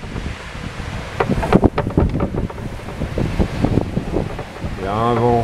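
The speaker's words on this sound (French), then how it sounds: "Il y a un vent incroyable," Strong wind sweeps across a mountain campsite in the Vercors, buffeting the microphone with rough, gusting roar while people talk underneath, followed by a brief whistling tone near the end.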